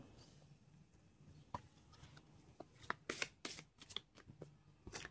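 Tarot cards are shuffled by hand close up, with quiet scattered taps and flicks at first, then a denser burst of riffling and snapping card sounds in the second half.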